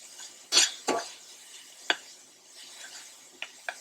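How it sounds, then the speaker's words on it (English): Chicken, onion, jalapeno and garlic sizzle in a pan with a steady low hiss, broken by a few sharp clanks and scrapes of a spoon against the pan. "It's supposed to be sizzling."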